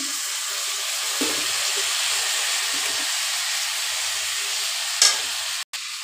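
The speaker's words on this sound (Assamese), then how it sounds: "এতিয়া মই ইয়াতে পানী দি দিম।" Water hits a hot pan of cooking potatoes with turmeric and sets off a loud, continuous sizzling hiss that holds throughout, with a short clank near the end.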